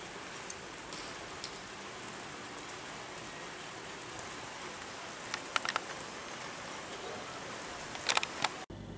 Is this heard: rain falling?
yes